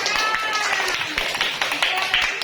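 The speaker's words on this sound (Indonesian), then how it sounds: "Tepuk tangan semuanya, semangat, tepuk tangan." Children in a classroom clap their hands together, a brisk scattered patter of claps under a teacher's voice encouraging them.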